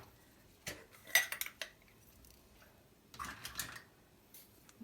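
Metal cutlery and dishes clink and clatter in scattered bursts as stuffed butternut squash halves are set into a baking dish, the clatter fairly quiet and coming in two clusters.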